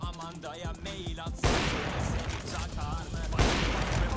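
Dense, loud gunfire from a CS:GO match on the Dust 2 map, continuous automatic bursts that start with sharp shots and swell into sustained fire, with a voice heard early on.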